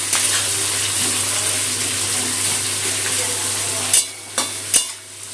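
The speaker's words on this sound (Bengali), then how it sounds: "পেঁয়াজটা লাল করে ভেজে নেব।" Onions with a pinch of salt fry in oil in a pan for a mutton and potato curry, giving a steady close sizzle that runs unbroken and then turns choppy near the end with a few clatters from stirring.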